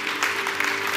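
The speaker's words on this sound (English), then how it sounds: "Keep on clapping." Brief burst of congregation clapping in a church, a dense patter of many hands over a low sustained keyboard tone.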